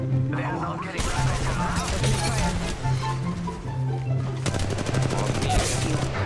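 Rapid automatic gunfire from an Apex Legends Mobile match, bursts of loud, dense shots and a crash over constant game ambience and music, with a brief pause before another sustained volley.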